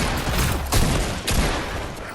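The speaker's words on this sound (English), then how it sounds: "so there's a player shooting them." Rapid bursts of gunfire in the Fortnite squads game, a loud dense volley with two sharper shot clusters standing out over a steady roar of game sound, no talking.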